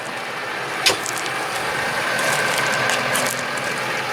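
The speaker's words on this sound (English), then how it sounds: "Everyone loves to see these tractors go." A farm tractor pulls away outdoors during barley harvest in Gloucestershire, its engine droning steadily and fairly near with a brief clank, no talk over it.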